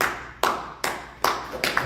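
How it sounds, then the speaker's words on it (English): Audience at a live investment seminar in Vancouver claps in four short, distinct bursts, each sharp onset fading quickly, close and moderately loud with no talk. "Thank you for clapping."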